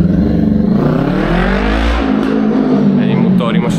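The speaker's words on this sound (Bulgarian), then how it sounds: "Един мотор имаше тук." A motorcycle engine revs loudly and close on a street in Buenos Aires, Argentina, rising in pitch and then settling into a steady roar for several seconds, with a person talking over it.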